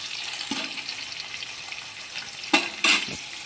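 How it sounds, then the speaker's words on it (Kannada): Onions fry over a high flame with a soft, continuous sizzle. A few sharper crackles and scrapes, likely stirring, break through near the end. The sound is fairly quiet and close, with no talking. "ಹೈ ಫ್ಲೇಮಲ್ಲೇ ಇದನ್ನು ನೀಟಾಗಿ ಫ್ರೈ ಮಾಡ್ಕೊಳ್ಳಿ"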